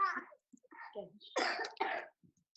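A child coughs and clears its throat in several short, close bursts with brief silences between them, the last two bursts the loudest.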